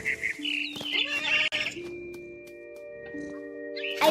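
A bird in the video game What Remains of Edith Finch gives a series of sharp squawks and chirps, loud and close, interspersed with tonal game sounds and brief pauses.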